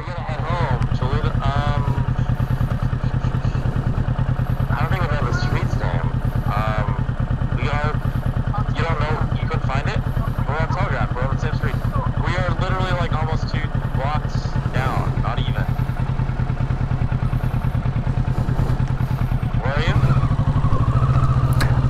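A 2020 Kawasaki Ninja 650 motorcycle runs steadily while riding, its engine droning loud and constant close up, while a rider talks on and off throughout over the engine and wind.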